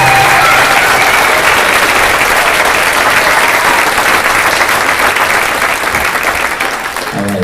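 Loud, dense applause from an audience at a seventh-grade middle school band concert claps steadily throughout and thins slightly at the very end.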